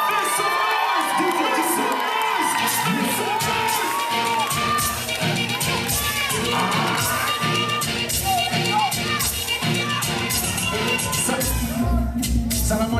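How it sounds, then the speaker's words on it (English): Crowd at a dancehall dance battle in Riga cheering and shouting loudly throughout, with whoops and children's shouts over steady music, continuous and close. "Applaudissez-les s'il vous plaît. Applaudissez."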